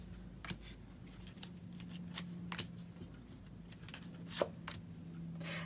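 A deck of oracle advice cards is shuffled by hand, giving a series of soft, quick riffles and taps against a low steady hum, with one sharper snap near the end.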